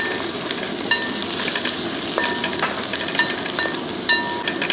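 Steady sizzling of onion and coconut frying in a pan, with occasional sharp clinks of a utensil stirring against the metal.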